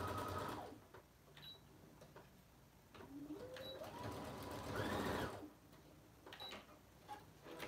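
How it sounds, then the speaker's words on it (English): A sewing machine stitches the corners of a bag in short runs with pauses between them, its motor rising and falling in pitch at close range. Small clicks and handling sounds fill the gaps. "So I'm sewing all my corners right now."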